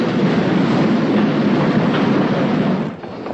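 An express train bound for London stands at a station platform, filling the air with a loud, steady rail rumble that holds throughout and eases slightly near the end.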